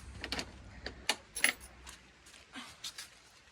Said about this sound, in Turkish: Anahtarımı buldum şu anda.